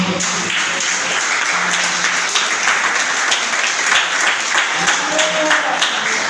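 A church congregation claps and applauds continuously, a dense, sustained roar of hands filling the room.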